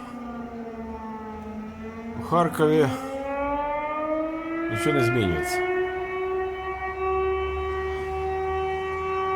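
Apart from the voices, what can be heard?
air raid siren wailing in Kharkiv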